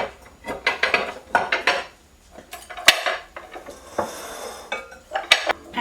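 Two large bowls taken out in a home kitchen, with several clattering knocks and clinks of dishes and pans in short bursts, close by and moderately loud, no talking.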